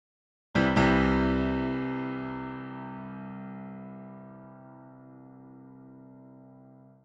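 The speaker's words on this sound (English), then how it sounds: "that was the sound of a grand piano being played on my keyboard" A grand piano voice played on an electronic keyboard: one loud struck chord with a sharp attack that rings out and slowly decays over several seconds, heard alone.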